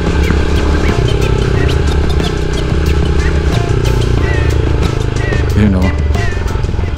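Rusi Classic 250i motorcycle engine throbbing steadily and loudly while riding, a continuous low rumble with wind, as the rider talks over it throughout.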